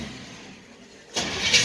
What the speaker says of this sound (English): Okay, it's tried to start.